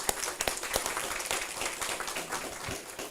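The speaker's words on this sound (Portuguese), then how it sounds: "uma salva de palmas para o Juscelino." An audience at a talk on opal jewelry applauds a speaker, a steady wash of many hands clapping with a few sharper claps standing out, continuing evenly throughout.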